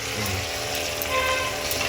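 Cut potatoes frying in a pan, a steady close hiss and crackle of oil that holds even for the whole moment with no voices.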